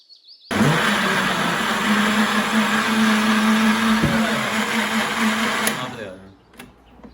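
Countertop blender whirring loudly and steadily while blending a mango mastani drink with ice cream, starting abruptly and running for several seconds before cutting off and winding down.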